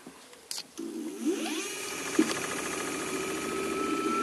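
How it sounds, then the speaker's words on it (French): Small motor on an e-bike with an unlocked controller shifting into third speed, whining up as its pitch climbs steadily and then holds a high, steady hum, close and fairly loud with a couple of brief clicks. "le moteur prend plus de tours"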